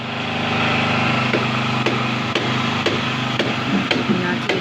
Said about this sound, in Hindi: ये हमने जनरेटर चला दिया।